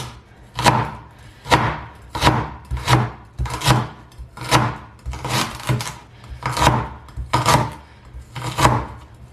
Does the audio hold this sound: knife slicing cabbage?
yes